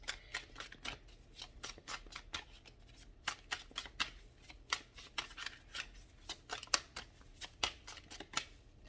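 Tarot cards shuffled by hand in close, quiet bursts of rapid riffling and soft slaps, repeating irregularly with no voices.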